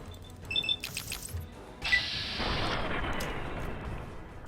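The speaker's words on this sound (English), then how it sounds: "Who's shooting at me?" Gunfire in the video game Fallout New Vegas: a few sharp shots followed by a booming blast with a long, fading rumble, loud and up close, with no talking.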